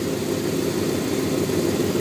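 A V8 engine idles steadily, a continuous low buzzing drone held at an even level throughout, close by, with no voices.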